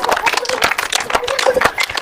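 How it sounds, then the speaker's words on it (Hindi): A group of people clapping their hands loudly at a yoga session, rapid uneven claps close by and continuous for the whole stretch, with voices mixed in. "उनके लिए जोर से ताली बजाइए, जरा सा कस करके।"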